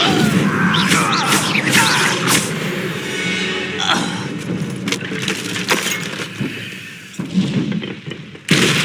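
The Incendio fire spell is cast in Hogwarts Legacy combat, giving crackling, splintering bursts and sharp crashes that flare repeatedly over a dense, busy game soundscape.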